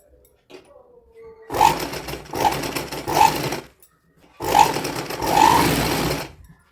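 A sewing machine stitches a folded belt onto a dhoti for a one-to-two-year-old girl, running in two sustained, fairly loud bursts separated by a short pause.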